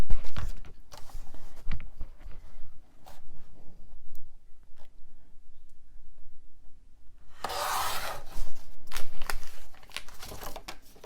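Scissors trim paper for a handmade boulevard-style mini album, giving a short close burst of crisp rasping cuts after a stretch of quiet handling and rustling.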